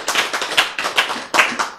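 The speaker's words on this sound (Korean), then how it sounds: "박수" Sharp, close claps break out during a lecture, coming in a quick uneven run of about eight strokes with short gaps between them.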